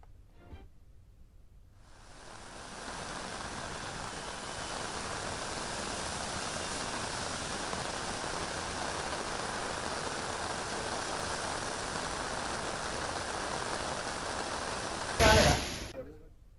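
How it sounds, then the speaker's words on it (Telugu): Heavy monsoon rain pours down in Telangana as a steady, dense roar that rises after a quiet opening and holds evenly, with a brief louder burst near the end. "తెలంగాణలో కుండపోతగా కురుస్తున్న వానలతో వాగులు, వంకలు పొంగి పొర్లుతున్నాయి"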